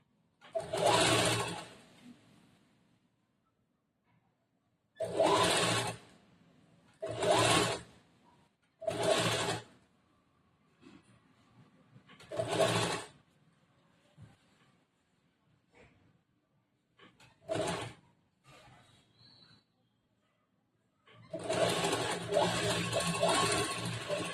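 A sewing machine stitches a kurta in repeated short bursts of whirring, about eight runs separated by quiet pauses and ending in a longer run, close and clear without talk.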